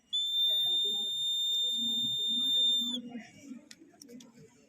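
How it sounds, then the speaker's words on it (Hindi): A rain sensor alarm on a student science-exhibition model sounds a continuous shrill electronic beep for about three seconds, then cuts off, leaving nearby chatter and crowd noise from the exhibition hall. "ये रेन सेंसर है"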